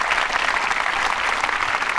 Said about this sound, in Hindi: तालियां फिर बजाइए आप।